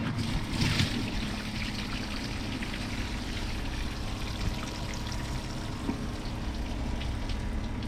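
A Kohler Highline Pressure Lite toilet flushes in a loud, steady rush of pouring, swirling water that continues evenly for several seconds close to the microphone.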